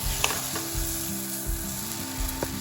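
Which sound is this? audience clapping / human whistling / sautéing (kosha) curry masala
sautéing (kosha) curry masala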